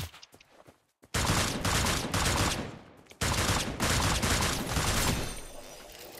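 Bursts of dense, loud gunfire in the video game Cyber Hunter, with sharp cracks, broken by a brief pause, then resuming in rapid volleys close by.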